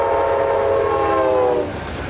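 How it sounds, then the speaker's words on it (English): A train rushes quickly past, its loud tonal horn-like whine holding steady, then dropping in pitch and fading as it moves away, with no voices. "Do you remember the train that a moment ago passed our screen very quickly?"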